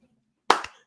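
A single sharp hand clap, close and crisp, with a faint second echo-like hit right after, otherwise near silence around it.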